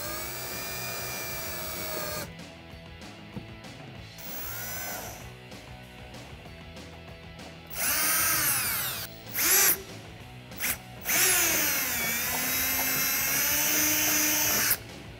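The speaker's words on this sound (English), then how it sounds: "take my 1/4 inch drill bit and just drill a small 1/4 inch hole right in front of that bracket" A power drill with a 1/4 inch bit bores a small hole near a bracket on a 2018 Mustang GT, high whining bursts starting and stopping several times at close range.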